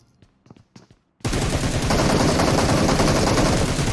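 Gunfire in a battle-royale shooter during a drop shot: after a few faint clicks, a dense, loud burst of rapid automatic shots begins and continues without a break, with no voices.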